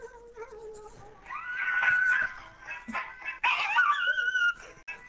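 A dog in the video game Fortnite lets out a drawn-out, whining yelp-like cry in two loud bursts, with no talk over it.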